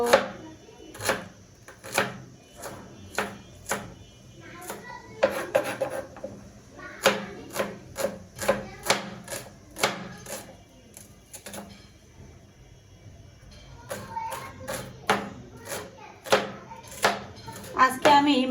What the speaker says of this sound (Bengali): এখন পেঁয়াজ কাটতেছি